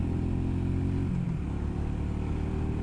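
A 2021 Royal Enfield Meteor 350 Fireball motorcycle engine hums close and steady, then its revs drop partway through and it settles into a lower, even drone.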